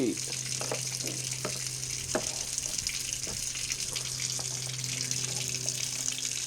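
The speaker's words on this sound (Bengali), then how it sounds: "এটা কার বাবার কল চালিয়ে রেখেছে ওটাকে বন্ধ কর" A household tap left running pours a steady hiss of water, with a low hum and scattered clatters and knocks nearby.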